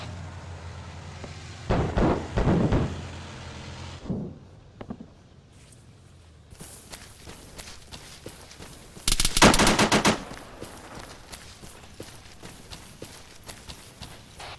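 A tank firing guns in a multiplayer military video game, with bursts of rapid gunfire and a loud blast near the end over low rumbling engine noise.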